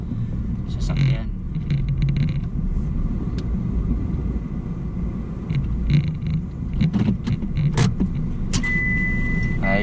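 A car is parked in a residential compound in Doha, Qatar, its engine a low steady rumble with a few clicks and mechanical sounds, while someone talks over it.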